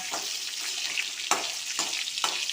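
Onions sizzling in a pan for mango chutney, a continuous close fry broken by regular stirring scrapes about every half second, with no talking.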